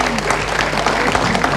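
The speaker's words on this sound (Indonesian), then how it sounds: "Kita beri tepuk tangan sekali lagi." A brief, full burst of audience clapping at a community event on empowering elderly and disabled people, many hands applauding together at close range for under two seconds.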